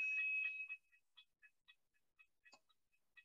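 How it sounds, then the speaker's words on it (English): Faint, distant electronic beeping of a fire alarm test during a seminar talk, an initial longer tone followed by a string of short chirps spaced roughly a quarter second apart, otherwise quiet. "sorry, fire alarm."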